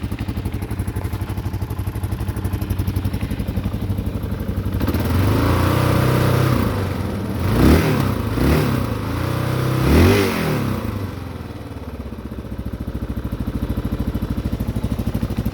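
A 2001 Kawasaki KLR650 single-cylinder motorcycle engine runs steadily after a choke start, idling close by with a few rising revs in the middle before settling back to an even idle.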